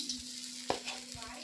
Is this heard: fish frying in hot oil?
yes